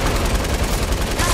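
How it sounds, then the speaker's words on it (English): Dense, continuous gunfire from a Fortnite match, rapid overlapping shots forming a loud, steady barrage with no clear gaps across the short span. "I shot the kid."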